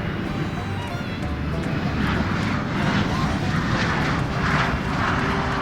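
Airplane engine drone from a trucking video game set on Alaskan roads, a continuous loud roar that swells and fades slightly, with people talking over it.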